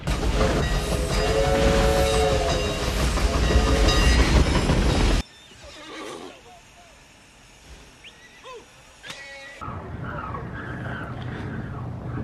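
The Reno steam locomotive, a classic Western film engine, rolls into a station with loud rumbling, clattering and chuffing, then a quieter stretch of faint clanks and movement before noise rises again.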